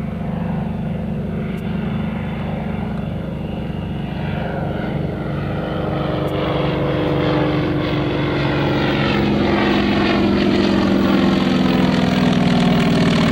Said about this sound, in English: Here comes Jim Buckley in that beautiful SBD Dauntless